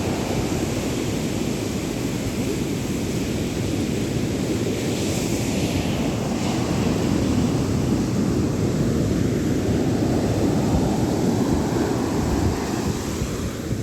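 Ocean surf at a beach in Pondicherry, a continuous roar of breaking waves mixed with wind buffeting the microphone, steady and fairly loud throughout with no voices.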